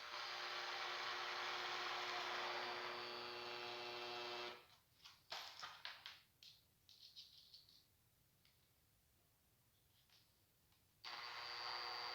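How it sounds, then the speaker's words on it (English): Power drill driving screws into wood while building a sliding bathroom door: a steady loud whine for about four seconds, then short intermittent bursts, and the motor rising again near the end. "Then we're just drilling the screws."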